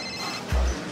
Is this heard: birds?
no